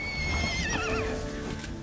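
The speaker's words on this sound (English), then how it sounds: "Here's the horse." A horse in Thronebreaker: The Witcher Tales gives one loud, wavering whinny that rises and falls, close and clear, over a faint hum.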